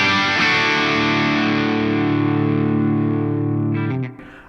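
An electric guitar through a Browne Amplification Carbon X dual overdrive pedal rings out a sustained chord with a thick, gritty tone and some chorus shimmer, fading before a brief muted strum at the end.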